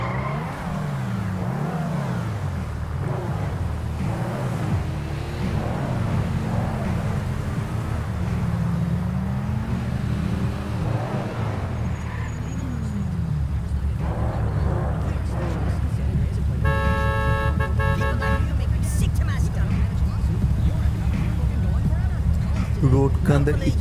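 Road traffic in the game GTA V: a continuous engine drone swells and revs over busy street noise, and a long car horn blares partway through, with indistinct voices underneath.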